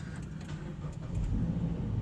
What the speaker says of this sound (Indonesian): Khas suara mesin bensin Land Cruiser.